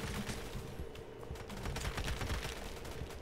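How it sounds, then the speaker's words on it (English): Dense gunfire from Roblox Phantom Forces, a rapid barrage of overlapping shots and bursts that rattles on without pause for the whole span, loud and busy, with no talking. "I heard guns going off somewhere."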